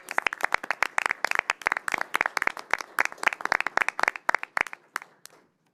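Applause from a modest audience for newly seated school board members, with distinct, fairly close hand claps in an uneven patter that carries on steadily, then thins out and stops near the end.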